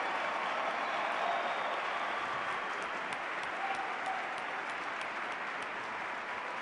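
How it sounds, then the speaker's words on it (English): Sustained applause from a large convention audience honoring senior directors at a business event in Dallas, a steady dense wash of clapping held at even loudness throughout. "Let's give a round of applause to senior directors."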